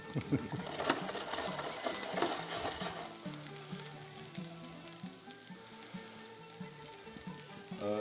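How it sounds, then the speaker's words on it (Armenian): Skin-on fish fillets fry in a pan with a close, crackling sizzle, busiest at first and then settling into a softer hiss, while a tonal background hum runs underneath. "Մի փոքր սպասենք, որ ձուկներն տապակվի"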